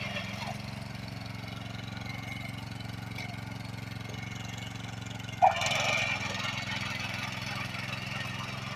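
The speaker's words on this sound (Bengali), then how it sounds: "তো আপনার মেশিন অলরেডি চালু হয়ে গেছে।" The engine of a soil tilling machine runs in a field in Oman, a steady, fairly faint low idling chug with a brief click partway through and a slight rise afterward.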